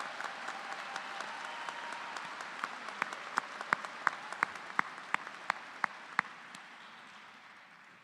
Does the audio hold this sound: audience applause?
yes